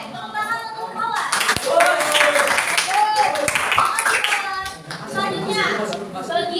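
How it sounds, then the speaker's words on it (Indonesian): Children in a classroom clap together for a student, a busy burst of hand claps mixed with kids' chatter and voices throughout. "tepuk tangan untuk Palas"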